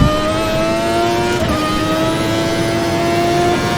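A 1991 Formula One car's engine howls at high, steady revs, holding hard against the rev limiter, loud and close, with a brief dip near the middle before the shrill tone resumes.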